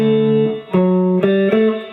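A guitar plays a short phrase of sustained notes, a few plucked in sequence with each ringing into the next, clear and close.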